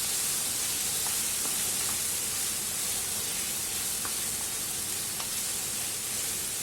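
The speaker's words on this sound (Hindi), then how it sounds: "उसमें टमाटरों को भी अच्छे से हम थोड़ा सा सूते कर लेंगे।" Tomatoes and chicken sauté in a pan for chicken jalfrezi, giving a steady soft sizzle with faint occasional pops and no talking.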